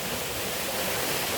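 A waterfall on a nature walking trail roars in a loud, continuous broadband rush, steady and close, with no voices over it.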